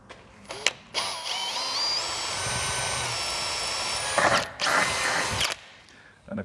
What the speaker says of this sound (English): So we'll put this in the vise ready to drill.